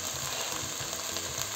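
Mackerel empanada filling seasoned with salt and paprika is stirred in a pan over low heat, giving a steady, dense sizzle with faint scraping throughout.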